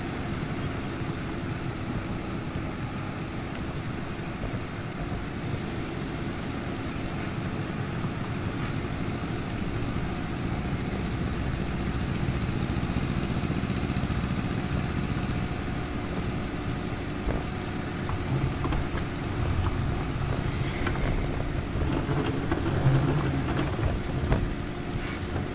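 Two tractors plough a stony potato field, their engines making a steady loud rumble that runs through the whole stretch with wind noise on the microphone and no talk.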